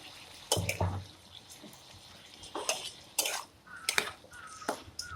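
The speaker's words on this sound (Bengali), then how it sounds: "দেখো এই মশলা ধোয়া জলটা আমি এর মধ্যে দিয়ে দিলাম" Water left from rinsing spices splashes into a simmering curry pot, with short pours and clinks of a bowl against metal among quiet bubbling.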